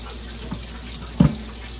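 A kitchen sink faucet runs while hands are washed during home cooking, a steady, fairly close hiss of water with a brief splash near the end.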